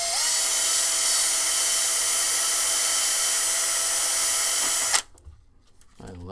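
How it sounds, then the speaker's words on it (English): A power drill bores holes during the build of a Tekno SCT410 2.0 RC short-course truck kit. It gives a loud, steady, close whine for about five seconds, then stops abruptly, leaving quiet handling noise. "I like drilling holes"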